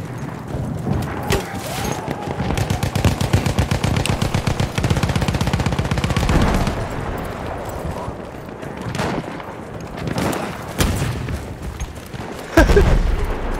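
Rapid machine-gun bursts crackle in a Battlefield 1 battle, a steady stream of shots for several seconds followed by separate heavier booms and blasts, loud and close.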